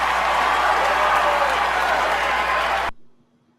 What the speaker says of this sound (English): you see people clapping in the media room